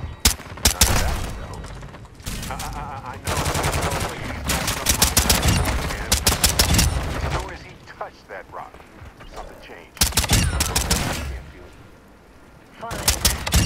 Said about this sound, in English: I just put down two sentry guns.